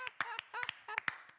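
A few people clap by hand in short, uneven bursts of sharp, close slaps with brief gaps between them, and nobody speaks.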